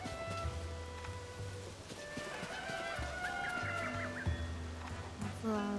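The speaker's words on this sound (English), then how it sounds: "That's a lot of chickens." Several chickens cluck in the video game The Legend of Zelda: Tears of the Kingdom, with scattered short clucks and calls over a steady, noisy, rain-like background and low tones.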